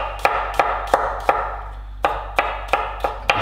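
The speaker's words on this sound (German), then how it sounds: "So, jetzt noch den Knoblauch in feine Streifen." A knife cuts garlic into fine strips, about ten crisp, evenly spaced chops striking a board in a steady rhythm, close and clear, with no talking.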